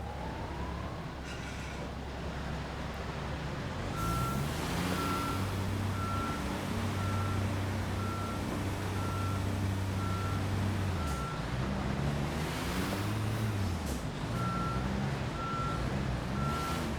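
Concrete truck in Construction Simulator backing up, its reversing alarm beeping steadily at an even pace over a loud, droning diesel engine that revs and shifts pitch, with no speech.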